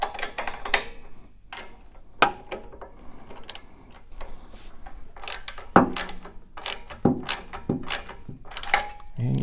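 Exhaust manifold clamp nuts on a Ford Model A are tightened with a 9/16 socket on a short extension and a 9/16 wrench, giving irregular metallic ratchet clicks and clanks in short bursts, close up, without talk.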